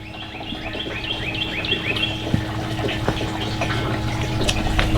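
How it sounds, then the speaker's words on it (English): A heated poultry water system pump runs with steady flowing water, a constant low hum and trickle with chirping birds on top throughout. "That's what the pump should sound like."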